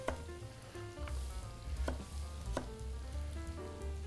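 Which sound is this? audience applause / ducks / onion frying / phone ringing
onion frying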